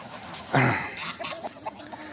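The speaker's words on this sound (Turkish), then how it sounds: "Tavuklara ses verdin mi hemen anında uçuyorlar." Farmyard chickens answer a keeper's call, one loud burst of flapping and squawking near the start followed by scattered soft clucks, all close by.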